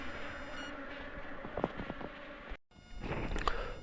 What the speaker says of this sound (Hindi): यहाँ पर भी एक मधुमक्खियों का जो छत्ता है वो लगा हुआ है